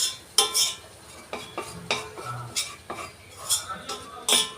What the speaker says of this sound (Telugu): దీనిలోనే మైదాపిండి వేస్తున్నాను సాస్ కోసము. ఇది బాగా కలిపేసి ఇట్లా ముద్ద అయినాక